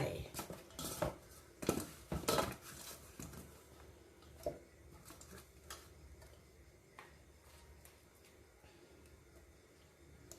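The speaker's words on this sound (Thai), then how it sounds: "ใส่มะละกอสับลงไป" Shredded papaya dropped into a mortar for a Thai fermented field crab and fermented fish papaya salad, giving a few loud clattering knocks and scrapes of utensils early on, then sparser, fainter clinks and taps.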